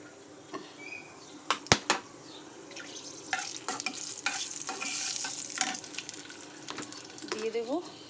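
Whole garam masala crackles in hot oil, a fairly faint, uneven sizzle with sharp clinks and stirring knocks, some light background noise and a brief voice-like tone near the end.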